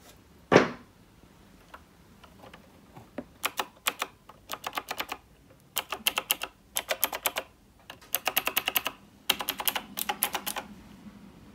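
Rapid clacky bursts of typing on a computer keyboard, coming in quick clusters with short pauses, close and crisp, after a single thump at the start.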